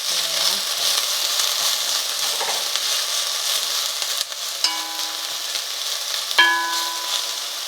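Curry leaves fry and brown in a hot pan for a Fiji-style salmon curry in coconut milk, giving a steady, close, dense sizzle throughout with a couple of brief sharper tones partway through.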